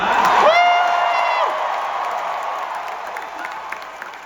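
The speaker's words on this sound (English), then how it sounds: "by the sounds of the crowd, we have some fans here" Crowd at a fan expo cheering and applauding, with a loud whoop and scattered shouts at the start, then sustained clapping and crowd noise that gradually fades.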